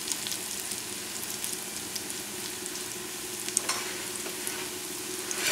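Potato pancakes fry in olive oil over a relatively high flame, a continuous bright sizzle with crackling pops and spatters throughout, close and steady, with no talking.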